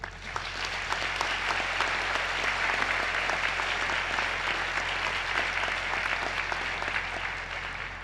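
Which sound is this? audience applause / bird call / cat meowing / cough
audience applause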